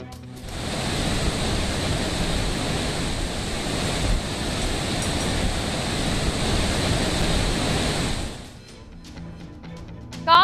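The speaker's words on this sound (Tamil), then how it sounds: "மேட்டூர் அணையில் இருந்து தொடர்ந்து 1 லட்சம் கனஅடி தண்ணீர் வெளியேற்றம்." Water rushing from the Mettur dam on the Kaveri river during a release of about one lakh cubic feet, a loud continuous broadband roar that runs steadily for about eight seconds before dropping off, with no voices.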